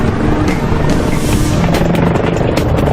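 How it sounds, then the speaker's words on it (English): An AgustaWestland EH-101 military helicopter in flight gives off a loud, steady roar of rotor and engine noise that fills the whole stretch without a break. "Every second the EH-101 is in flight, its massive main rotor is shoving up to 45 tons of air out of its way."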